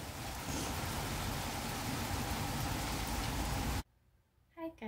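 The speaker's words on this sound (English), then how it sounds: "It's hailing." Hail pours down outside a house, a dense, steady hiss of ice pellets striking surfaces for several seconds before it cuts off abruptly, leaving a quiet room with a few faint sounds.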